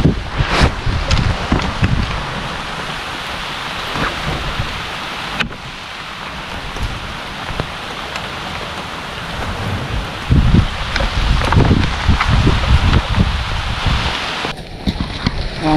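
Heavy wind and rain batter a small fishing boat at sea during a storm, a loud continuous roar with gusting buffets against the microphone and splashing surges, no talk.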